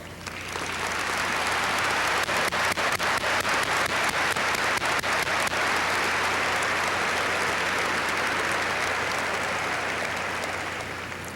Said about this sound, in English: Please stand for applause.